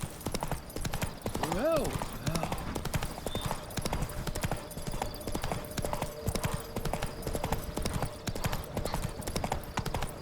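Hooves clip-clop in a quick, steady galloping rhythm from the horse in The Witcher 3 video game, with a brief whinny early on and a voice speaking over it.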